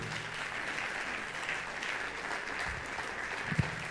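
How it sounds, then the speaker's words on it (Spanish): A church congregation at a Sunday worship service applauds in a steady, fairly quiet blur of clapping, heard from a distance in a reverberant room, with a brief low thump near the end. "Si va a aplaudirlo, apláudale."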